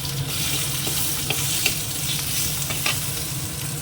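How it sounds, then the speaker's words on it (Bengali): Hilsa fish heads fry in hot oil with a steady, bright sizzle, and a utensil occasionally scrapes and stirs the pan. "মাথাগুলো এবার ভালো করে একটু ভেজে নেব"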